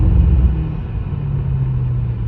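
BMW M-model exhaust with a Dahler valve controller, valves closed in Sport Plus mode: a loud, close, muffled low engine rumble that drones steadily with slight swells in pitch.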